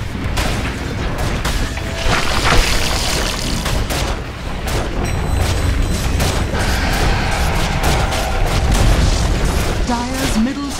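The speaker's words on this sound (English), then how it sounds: "Dire's middle tower has fallen." Dota 2 match audio as a tower is destroyed, with repeated booming impacts and mechanical crashes layered over constant battle noise, fairly loud, while a voice speaks over it.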